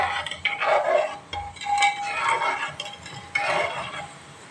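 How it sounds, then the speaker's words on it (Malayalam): A spoon stirs rice and sugar in a pot for Ambalapuzha palpayasam, giving quiet, irregular clinks and scrapes against the metal. "ഇട്ട് കൊടുത്തിട്ട് നമുക്കൊന്ന് ഇളക്കി കൊടുക്കാം."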